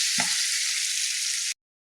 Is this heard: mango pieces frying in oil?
yes